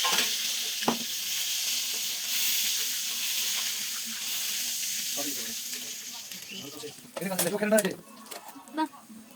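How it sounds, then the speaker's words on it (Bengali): Fish coated with ginger, garlic, chili powder and cumin paste frying in hot oil, a loud steady hiss with a few brief clatters, then a burst of crackling spatter near the end. "মাছটাকে ভেজে নিলাম"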